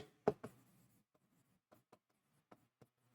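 Handwriting on paper during a maths lesson: a few quiet, short scratching pen strokes, the first ones louder, then sparse faint marks separated by near silence.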